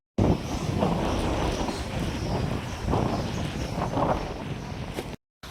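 Strong wind buffets the microphone at a village temple garden, a loud continuous rumbling roar that swells and eases in gusts, with no talk over it.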